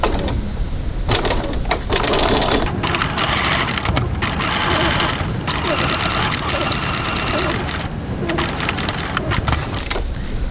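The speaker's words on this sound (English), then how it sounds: "So now I'm going to top stitch this curved bit." A sewing machine top stitches a curved edge on a wallet, running steadily and loud up close with brief pauses and speed changes as the fabric is turned.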